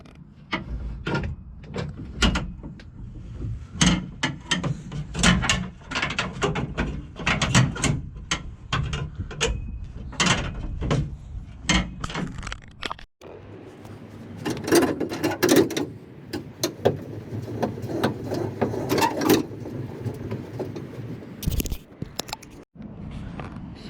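The spare tire winch on a Toyota Tacoma is turned to wind up its chain, producing repeated ratcheting clicks and metallic rattles in uneven bursts, close by, with a short pause midway.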